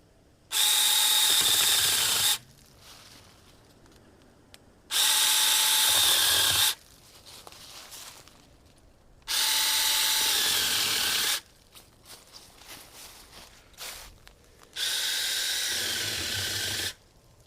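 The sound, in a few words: Sainlogic 6-inch mini chainsaw cutting marks into firewood logs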